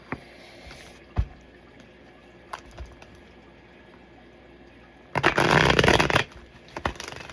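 Tarot cards handled, a few scattered light taps and flicks, then a dense burst of riffling shuffle about a second long, close by.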